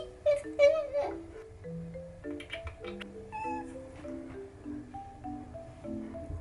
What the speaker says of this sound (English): his meows are so sucky and like little compared to Coco